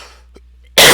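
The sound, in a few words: cough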